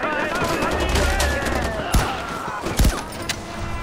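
Suppressed gunfire in Far Cry 4: a handful of muffled, thudding shots spaced over a few seconds, standing out against steady outdoor game ambience.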